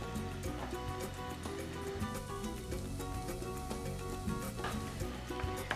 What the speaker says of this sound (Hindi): so I stir fry my vegetables for about 1 or 2 minutes on a high flame